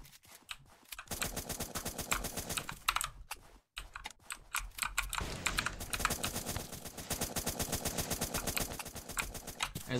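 Rapid, steady bursts of gunfire in the video game Zombs Royale, dense repeated cracks running almost continuously with a brief pause, alongside fast keyboard clicking.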